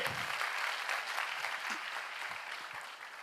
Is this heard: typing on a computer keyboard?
no